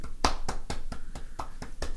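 Two podcast hosts clap in close, quiet, steady rhythm, about nine claps at a regular pace in a small room.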